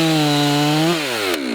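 A chainsaw cutting into a tree during felling: a loud, close, steady engine whine that drops in pitch as the chain bites into the wood, with no voices.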